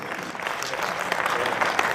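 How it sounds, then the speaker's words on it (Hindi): Audience applause at a bank's foundation day cultural program fills the space, a dense steady clapping from a crowd that swells slightly toward the end, heard without speech over it. "ताली बजा के एक बार जबरदस्त स्वागत कीजिए।"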